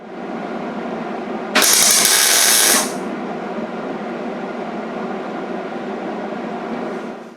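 A power drill boring a hole in the steel sill of a Triumph Spitfire, heard as a single sharp, high-pitched whine of a little over a second, standing out above a steady background hum.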